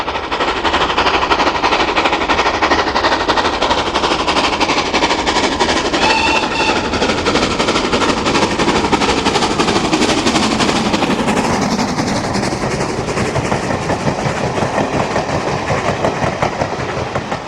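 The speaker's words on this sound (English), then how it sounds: "Mansell's U class takes to the main line in January 99 with matching stock." A U class steam locomotive, 31625, hauls a train of matching stock on the main line near Albury, Guildford, with rapid rhythmic exhaust beats and rolling clatter close and loud, a whistle-like tone sliding near the end; no voices.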